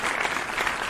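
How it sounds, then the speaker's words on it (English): Soft, dense applause from a crowd of people runs steadily through a brief, fairly quiet moment, with no talking on top. "For those of y'all hearing the clapping"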